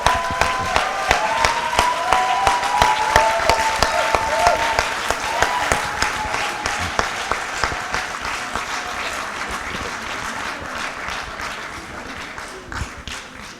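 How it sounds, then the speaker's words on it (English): Sustained audience applause for competition runners at the closing session of a World Entrepreneurship Forum and Africa Industrialization Week event, a steady roar of many hands with distinct sharp claps punctuating it, fading slightly toward the end. "Give them another big round of applause"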